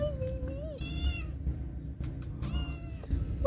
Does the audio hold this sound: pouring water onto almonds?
no